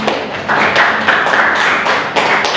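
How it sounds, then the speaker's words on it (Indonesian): A classroom group claps together at an Indonesian school lesson, a dense burst of hand claps that swells, holds briefly and tapers, fairly close and loud. "Oke, kasih tepuk tangan."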